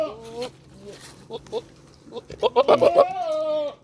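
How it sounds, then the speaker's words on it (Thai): A seven-month-old Boer goat bleats close by, with a wavering cry at the start and a louder, sustained bleat near the end. Someone talks briefly between the calls. "วันนี้มีแพะหนุ่มนะครับ แพะหนุ่มเจ็ดเดือนนะครับ"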